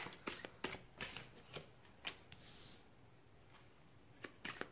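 Tarot cards being shuffled and drawn, a quick run of soft riffling flicks and taps, then a quieter pause and a few more card snaps near the end, close-up and gentle with no voices.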